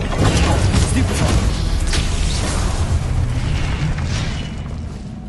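A Stupefy spell is cast in Hogwarts Legacy on PS5, a loud, dense magical burst with booming, whooshing energy that holds steady for several seconds before easing off slightly at the end, with no voices.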